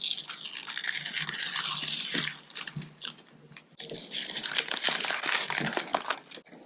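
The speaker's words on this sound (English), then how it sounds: "I'm going to peel this paper off of this particular piece of acrylic here, the protective backing." Protective paper backing being peeled off an acrylic sheet, a close crackling, crinkling tear that comes in bursts with short pauses between pulls.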